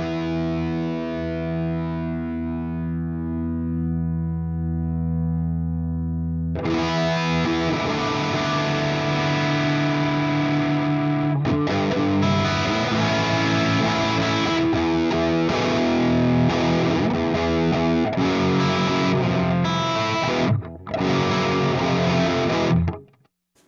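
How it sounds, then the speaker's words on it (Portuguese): Electric guitar playing a clean sustained chord, then switched into a thick distorted tone through a distortion pedal and impulse response cabinet simulator, loud continuous strummed chords with brief gaps near the end. "E eu posso acionar aqui uma distorção."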